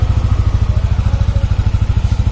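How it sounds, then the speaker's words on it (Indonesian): A Yamaha NMAX scooter engine runs close by at a steady idle, with a rapid, even low-pitched chugging pulse throughout. "suara mesin NMAX penulis jadi kayak gini ya."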